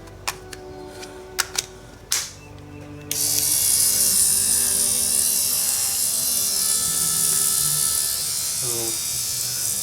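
An Andis AGR hair clipper runs with its blade removed, a steady loud motor whir that starts abruptly after a few seconds of clicks and handling noise, then holds a constant buzz to the end.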